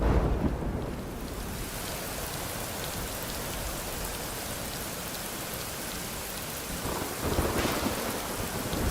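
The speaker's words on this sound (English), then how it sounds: "While it's just pelting down rain." Heavy rain pelts down steadily in the Rising World video game, a dense constant roar with rumbling thunder swelling at the start and again near the end, with no talking.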